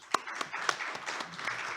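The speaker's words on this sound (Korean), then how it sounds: "박수로." Scattered applause from a small audience at a labor and social policy forum panel, welcoming two discussants; a few sharp claps stand out over a thin, moderate patter lasting under two seconds.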